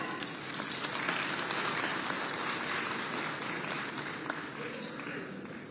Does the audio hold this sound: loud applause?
yes